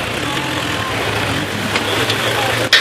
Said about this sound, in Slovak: Utrápené motory revali na najvyšších otáčkach